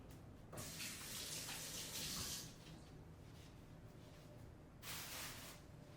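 Water runs steadily from a tap while hands are washed, with louder splashing bursts near the start and again toward the end as the hands move under the stream.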